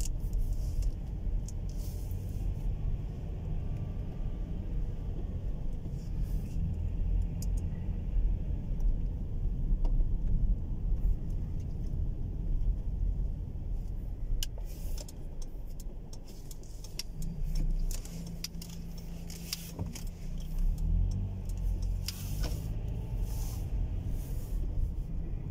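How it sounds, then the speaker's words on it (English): A car is driven through Luton in the UK on a Sunday morning, heard from inside as a steady low engine and road rumble with tyre noise and occasional rattles and bumps throughout, and no voice. "Yes, I'm driving in Luton again."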